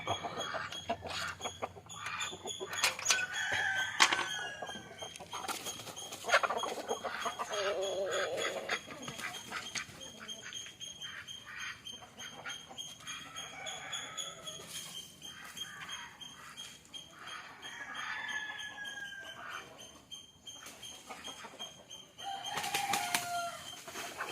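Country chickens (naattu kozhi) let out of their coop in the morning cluck and call at moderate distance, with occasional wing flaps and a dog barking now and then, over a faint outdoor background.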